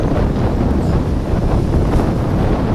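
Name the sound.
big sea waves at Digha beach, with wind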